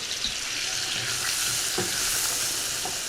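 Flour is stirred into melted butter in a pan to make a roux for moussaka, giving a steady, close sizzle with soft scraping strokes of the spoon throughout.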